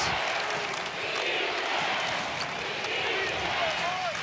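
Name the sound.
basketball crowd cheering in arena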